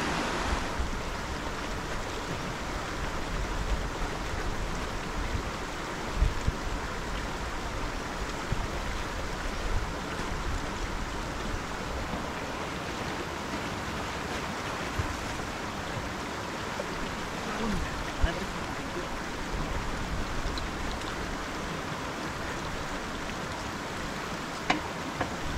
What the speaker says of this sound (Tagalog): Napakalinaw ng tubig na nanggagaling dito sa may bukal